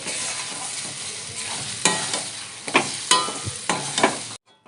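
Semolina and potato dough stirred continuously in a pan over low heat, a soft steady sizzle broken by several sharp scraping strokes and knocks of the spoon, close up, ending abruptly.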